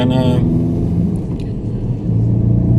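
VW Golf 2.0 TDI EA288 diesel engine, previously faulted with long cranking, starting up and settling into a steady low idle rumble, heard close with brief starter whine at the start.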